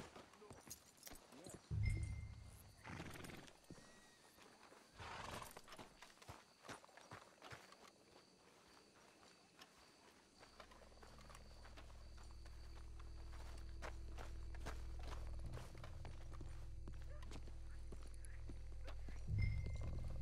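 Horses in Red Dead Redemption 2 walk along at a steady clip-clop of hooves, fairly faint. Characters talk over the hoofbeats and a low ambient drone builds in the second half.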